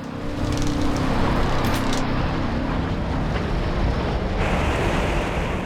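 Roaring hurricane-force wind from Hurricane Katrina battering a house near New Orleans, a loud continuous broadband rush with gusting swells and no voices.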